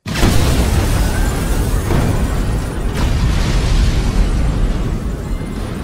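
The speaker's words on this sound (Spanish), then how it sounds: "Y al finalizar, la escuela explota." A school blows up in an animated story: one loud, sustained, roaring explosion rumbles on for several seconds with no speech over it.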